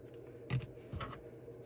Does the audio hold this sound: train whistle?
no